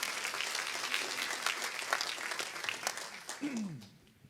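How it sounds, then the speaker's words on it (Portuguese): A church congregation claps together, a dense wash of applause that carries across the sanctuary and then fades out toward the end, with faint voices mixed in. "Louve a Jesus mais uma vez com as suas palmas."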